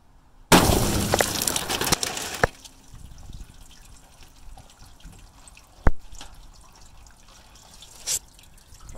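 A 6.5 Grendel rifle round punches through a row of seven water jugs: a sharp burst of shattering and splashing for about two seconds, then quiet with scattered drips and a couple of later sharp knocks.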